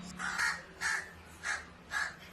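A crow caws four times in a steady, evenly spaced series, loud and fairly close, with a low hum in the background.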